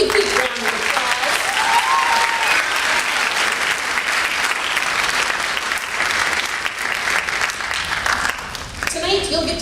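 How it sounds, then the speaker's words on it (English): A college speech night audience gives a big round of applause for a group of speakers, sustained dense clapping that fills the room loudly and steadily for the whole stretch, with no talk over it. "Let's give these folks a big round of applause."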